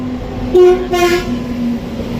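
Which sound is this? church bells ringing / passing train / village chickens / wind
passing train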